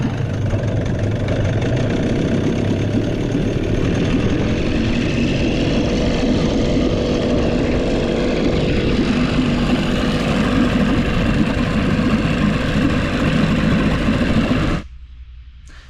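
A 7.5hp Johnson outboard motor with a worn impeller runs steadily at close range, a loud, even droning idle with knocking undertones that cuts off abruptly near the end.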